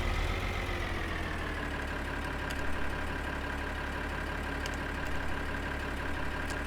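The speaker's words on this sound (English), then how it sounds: "Nice to have two tractors planting on this field" Tractor engines drone steadily in Farming Simulator 2013 while two tractors plant a field, a continuous mid-to-low engine hum that holds an even level throughout with no voices.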